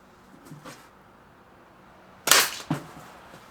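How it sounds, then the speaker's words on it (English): A staple gun fires into a beaver hide stretched on plywood: two faint clicks, then a loud sharp snap followed by a second quieter clack, in a quiet room. "If you're like me and using a staple gun, it's not preferred, but that's okay."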